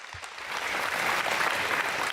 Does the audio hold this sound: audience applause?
yes